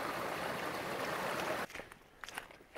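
Creek water flowing at Paige Creek, a dense steady rush for over a second and a half, then it falls away to faint trickles and small splashes.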